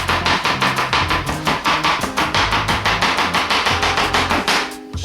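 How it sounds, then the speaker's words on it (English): A knife chopping celery on a cutting board, a fast, even run of loud, close thuds repeating for several seconds without talk. "So what I like to do is take my celery, split it right down the middle"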